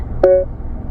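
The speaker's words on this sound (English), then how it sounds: "Please say a command after the beep." A single short electronic prompt beep from the voice-command system of a 2015 Kia Optima EX, clear and fairly loud against a quiet cabin background.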